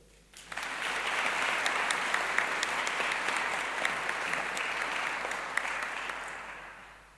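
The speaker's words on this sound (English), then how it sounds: "So let's have a round of applause" A graduation ceremony audience bursts into applause, with dense clapping that starts abruptly, holds steady with occasional sharper claps, and fades slightly toward the end.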